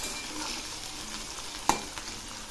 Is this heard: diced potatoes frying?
yes